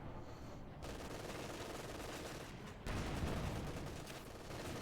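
Machine gun fire and battle noise in Company of Heroes 2, a World War II strategy game, as a Panther tank assaults: a dense, continuous rattle of gunfire, steady and loud throughout, growing heavier in the second half.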